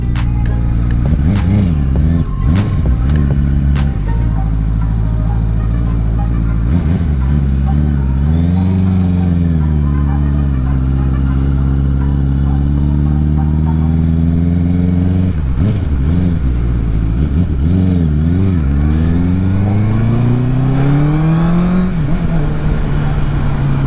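A Honda CBR650R sport motorcycle engine revs on a ride, close and loud, with its pitch climbing and dropping in repeated sweeps as it accelerates through the gears. Wind noise and brief voices sit over the engine.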